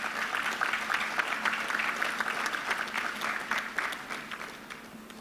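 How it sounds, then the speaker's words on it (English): Audience at a university faculties ceremony applauding warmly, a dense sustained clapping that fills the hall and slowly tapers off near the end, with no talk over it. "Give him a round of applause."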